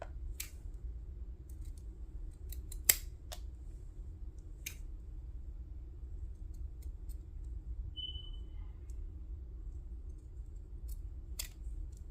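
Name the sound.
scissors snipping a tea bag for a junk journal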